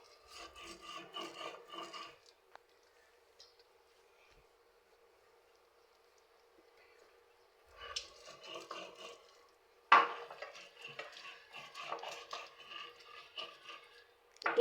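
Mashed bhorta being ground by hand on a pata grinding stone: rough rasping, rubbing strokes in bursts, a pause, then steadier scraping resumes, close and fairly quiet.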